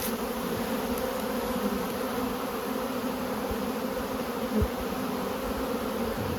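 Honeybees hum steadily around an opened hive while beehives are being moved in November, a continuous close droning swarm with no speech.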